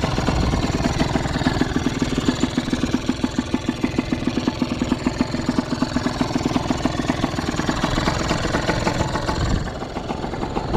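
A motocross motorcycle at an enduro park idles steadily up close, a loud, rapid, even engine putter that holds for about ten seconds before easing slightly at the end.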